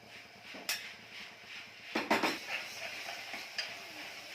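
Onions frying in a pan with green chillies, salt and turmeric, a faint sizzle under clinks and scrapes of a stirring spoon against the pan, close and without talk.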